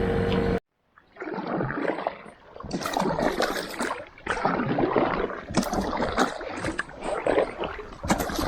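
A kayak paddled on water, heard close up in rhythmic bursts of splashing and dripping strokes, a brief silence near the start, then repeated paddle pulls and water swishes with no voices.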